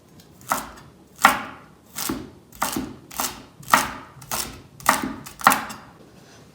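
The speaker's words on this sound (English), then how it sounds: "I'm just going to cut these in half and then chop them into slices." Kitchen knife slicing celery on a cutting board, eight or nine crisp chops at an even, unhurried rhythm, close and clear with no talking.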